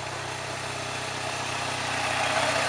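A Toyota 4AGE engine swapped into a drift car, running steadily with a throaty, even drone that swells slightly toward the end, close and alone with no voices.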